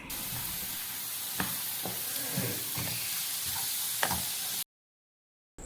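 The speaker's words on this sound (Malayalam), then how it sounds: "ചെറുതായി അരിഞ്ഞു വെച്ചിരിക്കുന്ന 15 കൊച്ചുള്ളിയും 2 വലിയ സവോള ചെറുതായി അരിഞ്ഞതും ചേർത്ത് വഴറ്റിയെടുക്കാം" Chopped shallots and onions sautéing in a pan for Kerala-style prawn biryani, a steady close sizzle with a few sharp stirring scrapes, then cutting to silence near the end.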